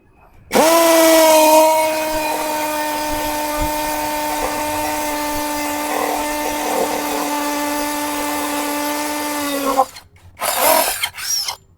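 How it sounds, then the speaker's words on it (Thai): A power drill whines steadily for about nine seconds, boring into concrete with a 10 mm bit, then stops, followed by a couple of short bursts. "ในการเจาะปูนผมก็จะใช้ดอกพัมกินตัว 10 มิลเลยนะครับ"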